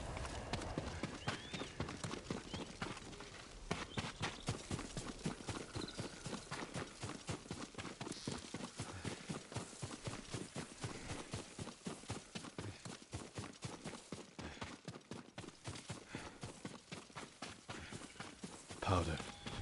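A horse's hooves clip-clop in a steady, rapid rhythm, close and continuous over a long stretch, with a faint speaking voice underneath at moments.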